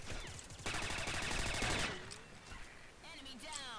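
Rapid automatic gunfire from the shooter video game Combat Arms fires in a dense burst, followed by scattered shots and game sound effects, with a voice speaking over it.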